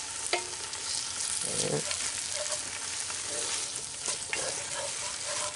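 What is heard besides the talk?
chorizo chili being stirred and sizzling in Dutch oven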